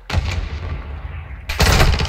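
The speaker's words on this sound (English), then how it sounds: "Tossing a frag!" Frag grenade explosion in Call of Duty Modern Warfare 2, heard as two loud blasts about 1.4 seconds apart. The second burst is broader and denser, set over steady in-game rumble.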